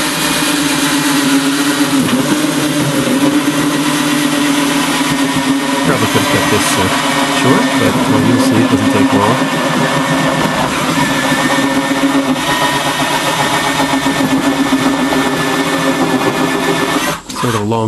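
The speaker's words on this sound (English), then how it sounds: "and then take the drill to it." A steady, loud motorized whir runs continuously for a long stretch, a power drill grinding through cardboard for an insulated keg box, with slight pitch shifts and a brief dip near the end.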